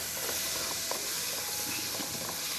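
Onion and garlic frying lightly in a hot pan, a dense steady sizzle with faint crackles and no voices.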